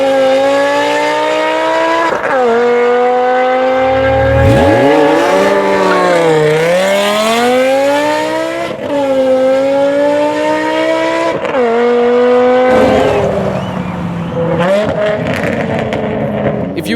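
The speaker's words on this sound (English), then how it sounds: "this car has custom ram air intakes and an exhaust system from the audio gods." A car fitted with custom ram air intakes and a tuned custom exhaust system drives past. It sounds loud and close, with repeated revving as the engine climbs and drops in pitch, and tires briefly squealing.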